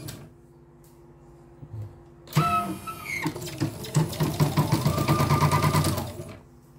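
A CNY embroidery machine under repair starts up and runs dry and unlubricated, a loud rapid mechanical clatter with rattling stitch strokes that builds over a few seconds after a quiet start, then cuts off.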